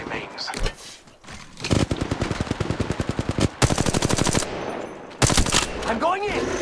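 Rapid automatic gunfire in the Apex Legends Mobile video game, long bursts of fast, close, loud shots broken by short pauses, with game voices and effects between bursts.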